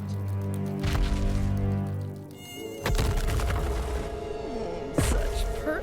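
A cartoon insect's buzzing drone hums steadily through the scene, swelling in a few louder passes as it circles around a kid, with busy cartoon effects layered over it and no talking.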